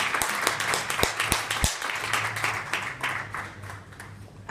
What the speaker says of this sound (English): I'd like you to give her a round of applause